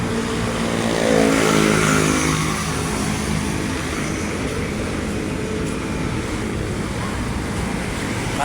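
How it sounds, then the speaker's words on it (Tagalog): A motorcycle engine revs hard on a road, giving a loud, continuous roar that peaks early and then holds as a steady drone mixed with passing traffic noise. "Halos umangal na yung motor, sige pa rin."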